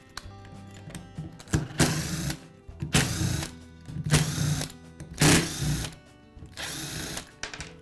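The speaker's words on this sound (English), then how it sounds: "Next, I'll separate the two halves of the rear housing." Plastic rear housing halves of a DeWalt angle grinder pried apart during repair, giving five loud bursts of cracking, scraping noise, each about half a second long and spaced roughly a second apart, with small clicks and handling sounds between them.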